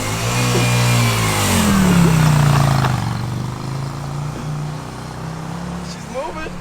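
Motorcycle engine running loudly nearby, a rising then falling rev in the first few seconds before settling into a steady rumbling idle, with voices over it.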